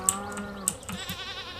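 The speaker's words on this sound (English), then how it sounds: "This is my only goat" A goat in Stardew Valley gives a short wavering bleat, loud and close, with a few soft clicks nearby.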